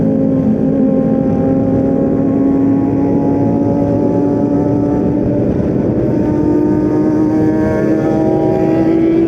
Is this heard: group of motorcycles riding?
yes